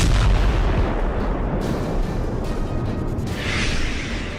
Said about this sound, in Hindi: रूस के काला सागर बेड़े के मुख्यालय पर एक भीषण मिसाइल हमला किया गया।